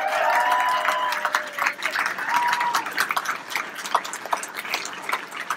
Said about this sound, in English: So give a round of applause, please, to those who are still working.